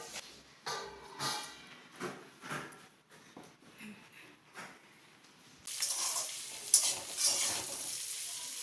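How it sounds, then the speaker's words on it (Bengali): Soft sizzling of pointed gourd and potato frying in a pan, with intermittent stirring scrapes, growing louder and hissier toward the end. "রাতে করছি একটুখানি পটল আর আলু ভাজা রুটি দিয়ে খাওয়ার জন্য।"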